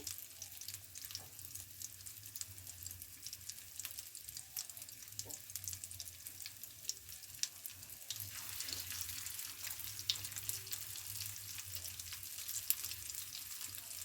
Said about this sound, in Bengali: টিকিয়া শেপ দিয়ে আমি মাছের টিকিয়াগুলো আমি তেলের মধ্যে দিয়ে দিচ্ছি